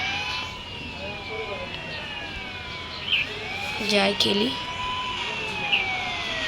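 Police car siren in an Indian bike video game, a wailing siren sweeping up and down throughout with a few engine and impact noises, while a person talks over it.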